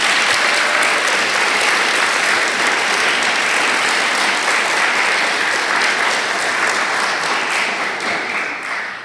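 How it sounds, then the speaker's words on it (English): A hall audience applauds the contributors to a publication, a dense, loud, sustained wash of clapping that carries on steadily for several seconds before starting to fade at the end. "A round of applause for everyone who submitted."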